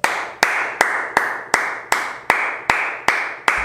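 A single pair of hands claps in a steady, evenly spaced rhythm, about nine sharp, close claps in a row with nothing else heard.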